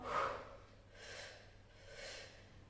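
Three forceful breaths pushed out through the nose during a Pilates breathing exercise, evenly spaced about a second apart, soft and close, the first the strongest.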